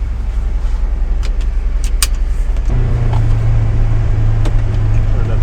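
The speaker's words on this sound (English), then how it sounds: "We're going to go ahead and go for a quick ride without floor mats in" A Polaris Ranger UTV idling and then pulling away for a short ride without floor mats, its engine a steady close droning rumble that rises in pitch partway through, with a few light clicks and rattles.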